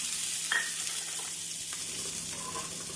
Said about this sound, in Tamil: நாம் இதனுடன் பொடியாக நறுக்கிய வெங்காயத்தை சேர்த்து விடலாம்